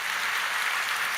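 Congregation at a church service clapping steadily, a dense continuous wash of many hands close by, with no voices over it.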